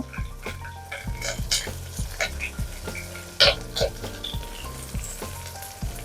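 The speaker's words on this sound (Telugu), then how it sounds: "ఆనియన్స్ ప్యూర్ గోల్డెన్ కలర్ వచ్చినంత వరకు బాగా ఫ్రై చేయాలి" Onions frying in a pan for mutton keema pulao, a steady sizzle under rhythmic scraping and stirring strokes of a utensil against the pan, close and moderately loud.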